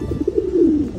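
A pigeon coos at close range, sounding a short series of soft, low throbbing notes that roll into a longer drawn-out coo with no talking.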